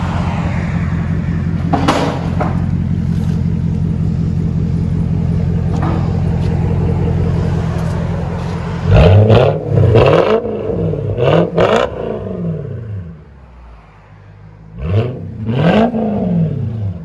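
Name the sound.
Japanese V8 car engine revving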